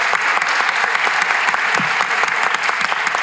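An audience breaks into applause to congratulate the Anghami team on their stock listing, a dense, loud burst of clapping that continues steadily without pause.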